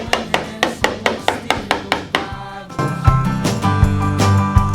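A screwdriver is worked under rusted body panel on a Plymouth Volare with a quick run of about ten sharp, evenly spaced metallic taps, followed by a denser stretch of music-like tones.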